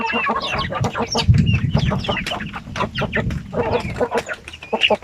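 RTL Basilan chickens clucking and calling close by, a busy run of repeated clucks and squawks from several hens, steady and fairly loud with no speech.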